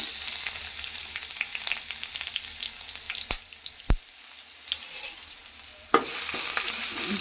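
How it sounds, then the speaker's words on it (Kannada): Garlic frying in a pan of oil for curry-leaf chitranna, a steady close sizzle broken by a few sharp clanks of a spoon against the pan. "ನೋಡಿ ಈ ಥರ ಸ್ವಲ್ಪ ಫ್ರೈ ಮಾಡ್ಕೋಬೇಕು"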